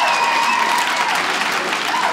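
A comedy-show crowd applauds loudly and continuously in a short burst, dense clapping with a few cheers mixed in.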